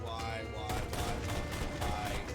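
Shotgun fire in the video game Borderlands 2, heard as a burst of several rapid, loud blasts layered with game noise, close and dense across the short stretch.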